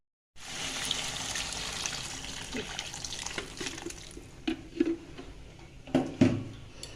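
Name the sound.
pouring hot water into potato bora curry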